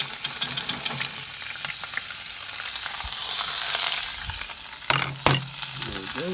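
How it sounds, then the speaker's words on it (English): Onion and garlic sautéed in a hot pan beside a Pit Boss ceramic grill, a loud steady sizzle with quick clicking stirs at the start and a couple of heavier scrapes toward the end. "Sauteing good and hot, perfect for sauteing."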